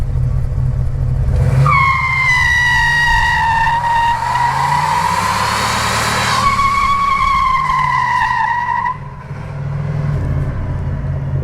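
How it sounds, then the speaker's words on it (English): A 1981 Pontiac Turbo Trans Am with a 301 engine doing a burnout: a loud, close, sustained tire squeal over a roaring engine that swells and holds for several seconds before dropping back to a rumbling idle. "So it turns out that a 1981 Turbo Trans Am 301 can indeed do a burnout."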